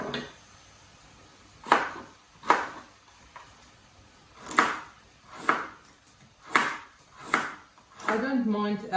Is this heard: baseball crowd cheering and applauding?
no